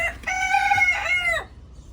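A single loud, close chicken call with a drawn-out harmonic tone, ending abruptly into quiet.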